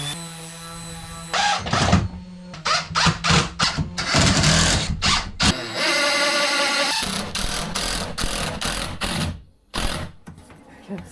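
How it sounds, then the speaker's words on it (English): Cupboard parts being screwed together with a power screwdriver, loud bursts of motor whine starting and stopping in quick succession over a steady background hum, with no talking. "I might go in and start screwing the stuff together"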